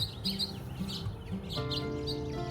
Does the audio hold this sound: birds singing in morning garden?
yes